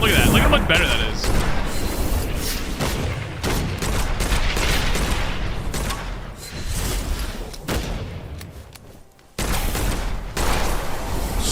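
Revolver shots and blasts ring out in the dark-fantasy shooter Witchfire, loud and repeated with heavy booms and mechanical clatter, under an ongoing voice, with a short silence before firing picks up again.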